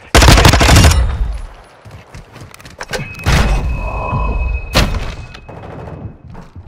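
Modern Warfare 2 video game gunfire: loud rapid automatic bursts and sharp single shots with thuds, separated by brief quieter gaps, close and punchy.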